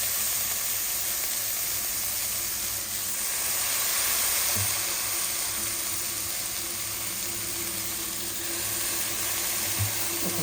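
Flattened rice (poha) frying in a pan gives a soft, steady sizzle and hiss throughout, with a few faint clatters of stirring, moderately close and without speech.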